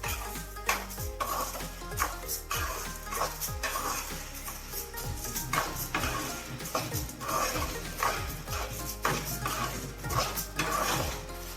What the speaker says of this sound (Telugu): కందిపప్పు నూనె వేసుకొని త్వరగా వేయించుకోవాలి.